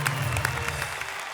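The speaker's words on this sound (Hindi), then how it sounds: "जोरदार तालियों से हम स्वागत करें" Applause from a studio audience welcoming a guest onto the stage of a comedy poetry show, steady dense clapping for a moment with a low hum of crowd beneath.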